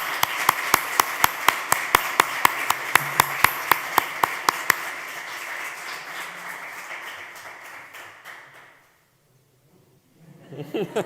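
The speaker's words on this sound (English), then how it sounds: "another big round of applause for you, because you deserve it" An audience claps in steady applause after a studio presentation, many hands forming a dense wash with sharp individual claps, which thins out and stops, followed by a moment of silence.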